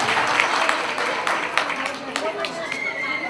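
An audience claps for the participants at a women's group garba programme in Mira Road, a dense, steady wash of hands close by with voices mixed in throughout.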